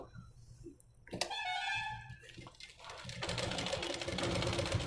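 A sewing machine stitching a blouse directly without lining runs in a close mechanical whir that starts after a brief whine and knock, then settles into a steady, dense hum.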